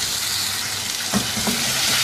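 Chicken browning in a karahi with garlic and ginger paste crackles with a dense, close sizzle, broken by a couple of scraping stirs of the spoon near the end.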